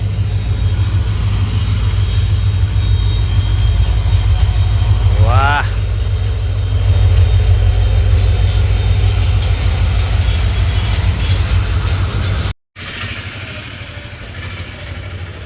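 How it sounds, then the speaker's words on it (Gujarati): A passing train gives a loud, steady low rumble that fills the whole scene and drops out briefly near the end. A person speaks a short exclamation over it. "અને ટ્રેન પણ આવી તમે જોઈ શકો."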